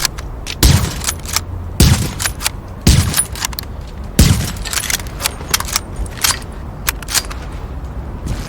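Marksman's rifle shots in the video game The Division: loud, sharp reports roughly a second apart, each trailing off, with reload clicks and mechanical handling between them and no talking.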